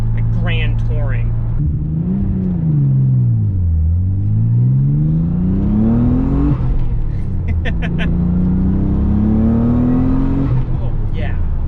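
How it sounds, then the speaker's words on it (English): A Nissan 300ZX Z32 twin turbo engine, heard from inside the car, revs loudly up and down several times, pitch climbing and falling in long sweeps, with faint turbo surge and brief hissing accents. "that turbo surge is intoxicating. I could do that all day."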